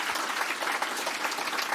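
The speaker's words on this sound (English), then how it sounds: "Yes, big round of applause for them." A crowd at a Liberal Party election night event in South Australia claps for the campaign team, a brief burst of dense, even applause at moderate level.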